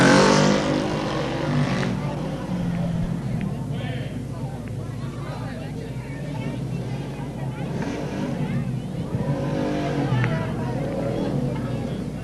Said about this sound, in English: Kind of hard for us to make any comments with those motorcycles going by